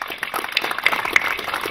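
Audience applause at an anniversary commemoration, a steady wash of clapping with a few sharper claps standing out, moderately loud and continuous with no speech over it.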